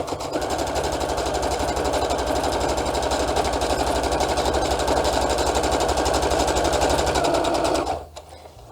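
A sewing machine stitches a 3D fabric face mask in one loud, continuous run of rapid needle strokes for about eight seconds, then stops abruptly.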